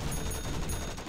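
A charged-up machine gun fires in a car racing combat game, a dense continuous burst of rapid shots lasting about a second, loud and alone.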